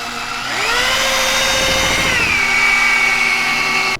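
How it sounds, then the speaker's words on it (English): Power sander working car headlights at the final 3000-grit stage, a steady high whine that spins up after a brief start, bends in pitch midway, and runs continuously before cutting off, close and loud. "on the final sanding stage right now, 3000 grit"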